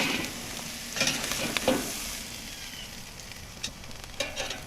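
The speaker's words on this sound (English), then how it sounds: "You can see you're already getting a nice sear on those even after 1 minute." Beef steaks sear on a grill grate over a hot fire, a steady hiss with a few brief scrapes and clacks as the meat is turned, no talking.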